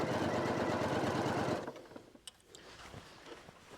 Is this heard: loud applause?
no